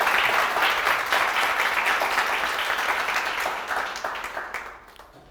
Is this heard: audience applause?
yes